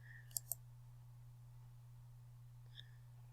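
Computer mouse clicks during a virtual chromatography lab: a quick pair of sharp clicks near the start, then one fainter click later, over a steady low electrical hum.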